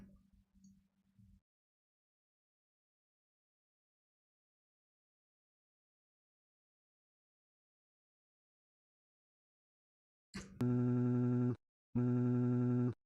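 A phone rings after a long stretch of near silence: two loud, close electronic ring bursts with a short gap between them, preceded only by a faint brief murmur at the start.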